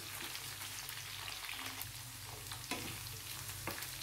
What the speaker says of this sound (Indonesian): Lalu kita tumis bersamaan ya.